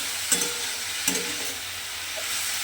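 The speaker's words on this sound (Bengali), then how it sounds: "আমি রান্না করছি এটা বড়ি বেগুন দিয়ে কড়াই শাকটা ভাজা করছি।" Grass pea greens fry with lentil dumplings and eggplant in a wok, a steady close sizzle broken by two sharp scraping stirs of a spatula.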